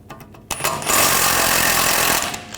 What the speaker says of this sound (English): And we're going to take this nut off. I'm going to use a 16mm socket.